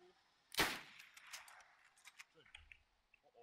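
A single sharp gunshot cracks out loud in a video game, its burst trailing off into scattered clicks and small game noises while voices murmur faintly in the background.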